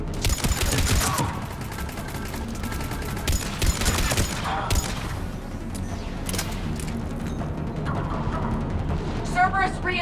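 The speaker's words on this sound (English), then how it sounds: "He's taking fire!" Rapid bursts of gunfire crackle through a Mass Effect 3 firefight, dense and continuous, with voices calling out over the shooting.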